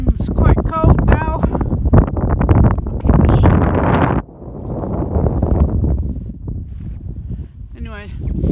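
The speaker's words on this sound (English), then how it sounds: "The wind's quite cold now." Cold wind buffets the microphone on an exposed hillside walk in the Yorkshire Dales, roaring in uneven gusts beneath a voice as he speaks.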